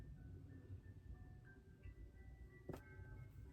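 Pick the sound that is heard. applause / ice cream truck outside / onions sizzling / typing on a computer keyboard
ice cream truck outside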